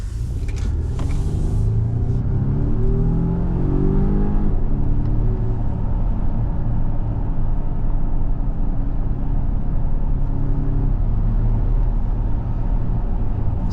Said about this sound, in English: the time it takes for the turbo to spool up and this engine to get into its power band